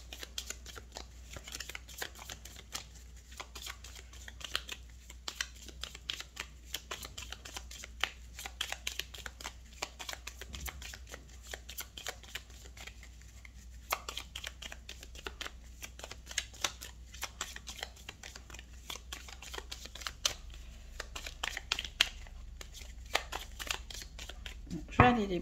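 Tarot cards being shuffled close up, a steady stream of soft riffling and slapping card noise over a low background hum, continuing without a break for the whole stretch.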